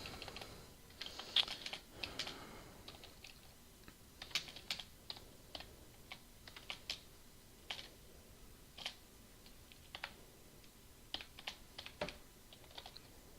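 Java code is typed on a computer keyboard in a quiet room, with steady irregular bursts of crisp key clicks and occasional pauses, close and alone without talk.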